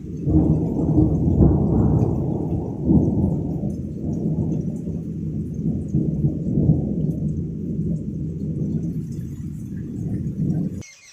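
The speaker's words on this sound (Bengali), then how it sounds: "একাতালি মেঘ ডেকে চলে যাচ্ছে আর বিদ্যুৎ চমকাচ্ছে" Deep thunder rumbles on and on, low and heavy, during a storm with lightning and hail, with rain falling faintly beneath the long roll.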